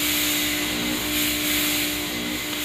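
A fogging machine blows disinfectant fog while a hotel room is disinfected after checkout, putting out a loud, steady motorized roar with a constant whine and broadband hiss, close and continuous with no talking.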